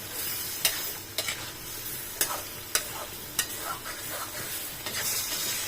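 Curry in a pot is stirred after the lid comes off, with a series of sharp spoon scrapes at an irregular pace over a constant close sizzle.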